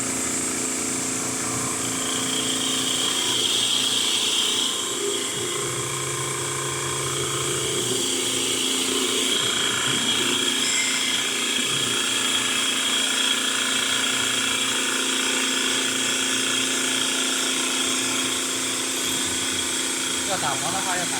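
Automatic CNC wood lathe for walking sticks and canes, a continuous machine whir with a spinning sanding wheel and motor hum throughout, and people talk over it.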